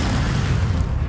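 An Expelliarmus spell striking in Hogwarts Legacy, a short, loud, booming impact with a dense low-end burst that fills the whole moment.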